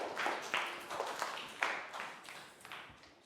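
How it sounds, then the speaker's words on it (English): A classroom of pupils claps in a steady rhythm for a classmate, about two beats per second, with bright, sharp hand claps at moderate, fairly quiet loudness that gradually fade. "Big round of applause for Down."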